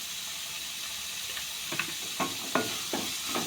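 Green chilli, curry leaves and ginger-garlic paste sauté in a pan for a shrimp snack, a soft steady sizzle with several faint scraping stirs, close and quiet.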